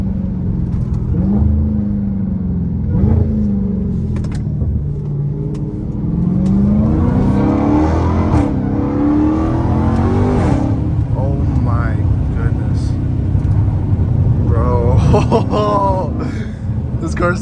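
A Dodge Hellcat Redeye revs and accelerates from inside the car, its engine rising and falling in loud surges while someone talks excitedly over it.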